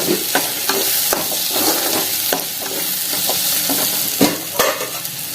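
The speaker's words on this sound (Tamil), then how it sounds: "இறாவை போட்டு ஒரு ரெண்டு நிமிஷம் வதக்கிக்கலாம்" Prawns sautéing in tomato gravy in a pan, a steady loud sizzle broken by frequent scraping stirs of a spoon against the pan, close and without talk.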